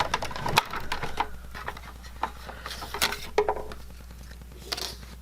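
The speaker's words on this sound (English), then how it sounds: "I am using a Cuttlebug machine that's no longer made." Old discontinued Cuttlebug die-cutting machine cranking material through its rollers, a close run of clicky, ratcheting mechanical clatter with irregular sharper snaps, heard alone without talk.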